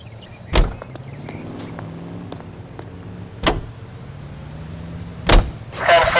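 In the 1940s Los Angeles crime game L.A. Noire, car doors thud shut in a few sharp knocks over a steady idling engine hum, followed by the car starting to pull away.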